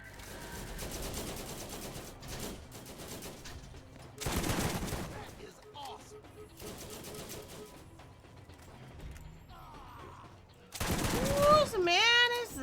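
Turrets firing in the shooter game Borderlands, bursts of rapid gunfire coming in separate volleys with gaps between, mixed with game effects and someone talking over parts of it.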